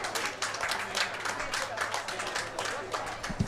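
Curling crowd at a quarter-final match cheering and clapping steadily throughout, a dense wash of applause from a sizable audience with a faint voice mixed in.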